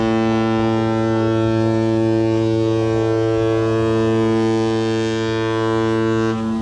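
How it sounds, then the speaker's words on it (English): Several deep ship horns blare together in a long, loud, sustained chord, layered tones overlapping without pause before tapering slightly at the end. "They're now having a horn battle."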